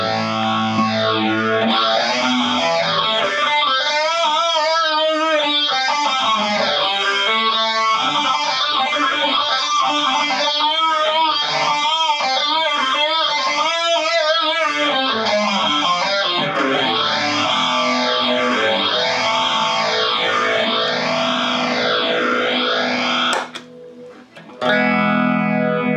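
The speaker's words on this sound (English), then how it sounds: "So, actually doesn't do too bad when you throw in a distortion or even the chorus with it." Electric guitar run through an Ibanez PH7 phaser pedal stacked with chorus and distortion, sweeping whooshing tones over sustained chords for most of the passage, then cutting off briefly before a short final strum.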